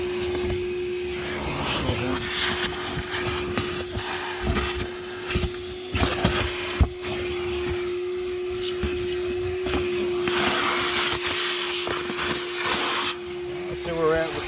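A Ridgid dual 18-volt cordless vacuum, model HD0918, runs with a steady high whine and airy rush, cleaning a car interior, with bumps and rattles of the nozzle and a voice talking over it.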